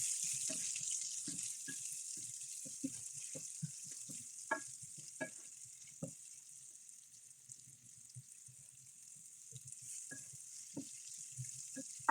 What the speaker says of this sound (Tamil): முதல்ல வந்து வெங்காயத்தை வதங்க விடுவோம்